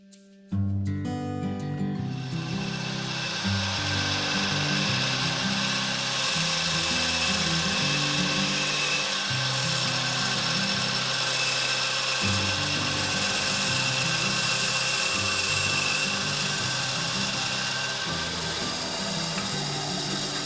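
A power tool grinds steadily into the wood of a handmade bow, the sound starting abruptly and continuing loud and near for about eighteen seconds, its whine shifting slightly as the cut changes.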